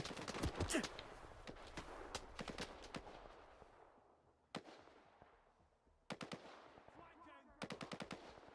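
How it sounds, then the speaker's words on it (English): Video game gunfire in STALKER 2: rapid bursts of automatic shots crackling in clusters, loud at first and echoing away, then fresh volleys after a short lull. "Why are you shooting me?"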